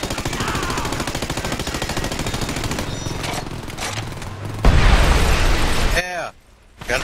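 An ACR assault rifle fires in Homefront multiplayer. A long, rapid stream of close, loud automatic shots runs for several seconds, joined by more gunfire and a burst, then cuts off briefly. A voice talks during the shooting.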